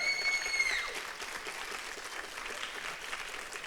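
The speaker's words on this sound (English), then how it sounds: "So let's give Mr. Torres a round of applause." Audience applause at a student film awards ceremony, a sustained wash of clapping after a brief tonal sound at the start, moderately loud and even throughout.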